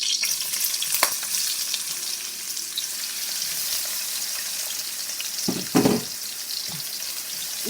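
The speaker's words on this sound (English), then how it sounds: "And then what I do, I'll add the garlic and the onion." Garlic and onion fry in hot vegetable oil in a pot for a jackfruit curry, giving a continuous close sizzle with a few sharp knocks and stirring clatters, no voices.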